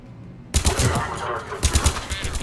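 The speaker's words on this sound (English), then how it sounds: "The cannon fire is clearing the way." Heavy cannon fire in the Mass Effect 3 video game booms in a rapid, loud barrage after a brief quiet start, with repeated pounding blasts layered over dense battle noise.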